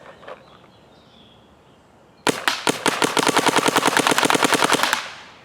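A Planet Eclipse CS2 paintball marker fires DEFY paintballs in a rapid, loud burst of about two dozen sharp cracks in even succession, preceded by a couple of quieter separate shots, with no voices.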